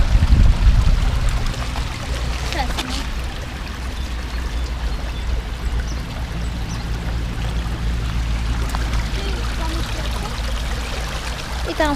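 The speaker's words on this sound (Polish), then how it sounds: "Patrzcie, tu jest taki potok." A steady stream in the Japanese Garden in Wrocław flows throughout, a continuous broad rush with a louder burst at the start; faint voices appear in the background.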